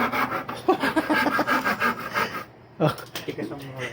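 Steady rasping strokes of a hand saw cutting through wood, close up, with a brief pause before the sawing resumes.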